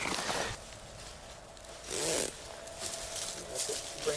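The fabric zipper of a Wiggys Freedom Shelter is pulled in several rasping strokes, up close. One longer, louder zip sits in the middle, with softer rubbing between the strokes.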